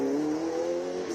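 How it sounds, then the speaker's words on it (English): A purpose-built race car at a hill climb start line at Killarney Raceway in Cape Town gives a steady, loud engine drone with a slight rise in pitch, heard briefly and alone. "if you can hear the awesome cars that are launching out here at the start line through this microphone"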